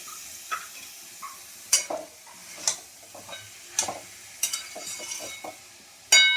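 Small chicken pieces frying in a pan are stirred with a utensil, giving a soft sizzle under irregular sharp taps and scrapes against the metal, ending in a louder burst; no talking.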